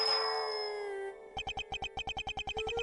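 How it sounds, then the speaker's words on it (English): Bells from the video game Ace Attorney Investigations 2 that herald the blind butcher: a clear ringing tone fades out, then a rapid, evenly spaced series of metallic jingles rings out. "his appearance was always announced by the sound of bells."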